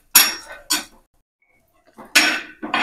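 Chickpeas and split chana dal roasting in a pan, heard as a few short metallic scrapes and clinks of a spoon against cookware, with a quiet pause in the middle.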